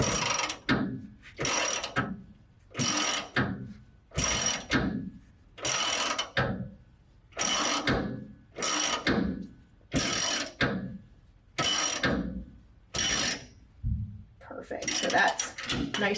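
Wrench ratcheting on a bolt at the rear shock mount of a 1969 Ford F-250 Camper Special, a steady series of about a dozen evenly spaced clicking strokes, close and loud, with brief pauses between.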